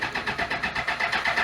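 A Suzuki GSX-R 1000 motorcycle fitted with a Power Commander cranks to start, a quick, even run of rhythmic starter pulses heard up close over a brief moment.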